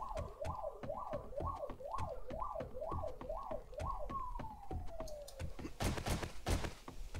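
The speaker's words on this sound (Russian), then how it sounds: "Так, прошу прощения за эту сирену." A wailing siren in a 7 Days To Die survival game rises and falls in a steady repeating cycle, then slides into one long descending tone, followed by a burst of sharp cracks near the end.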